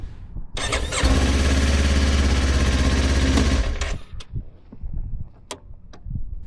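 A beginner's motorcycle engine starts and runs loud and steady for about three seconds, then cuts out abruptly, leaving only faint clicks and handling noises.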